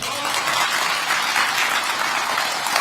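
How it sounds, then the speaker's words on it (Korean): Audience applause at a public government policy briefing in Seoul, a dense, steady wash of many hands clapping together, loud and continuous throughout with no voices standing out. "이쯤 되면 국방 아니어도 박수 쳐야 되잖아요"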